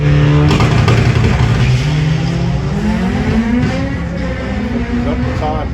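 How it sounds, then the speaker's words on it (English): A Vauxhall Corsa drag car makes a quarter-mile run at Santa Pod during the European Finals, its engine note loud and climbing through the gears while a commentator talks over it throughout. "Grant Moore goes for the top end with the Corsa with a 1079 at 130."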